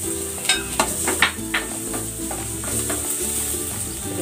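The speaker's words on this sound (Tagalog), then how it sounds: "Gisa na natin tong bawang." Garlic sautés in cooking oil for a crab soup, a steady sizzle with a few sharp stirring knocks in the first half, close and continuous with no talk.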